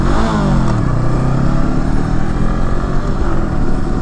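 Motorcycle engine revving hard while riding, with a gear change that does not go smoothly into second; loud, continuous and close throughout, with harmonics sweeping as the revs rise and drop.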